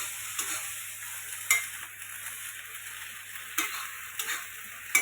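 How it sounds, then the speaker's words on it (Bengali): Okra frying in a pan while it is stirred, a steady hissing sizzle with periodic spatula scrapes and taps against the pan, close and without speech. "এই যে ঢেঁড়স ভাজি করতেছি"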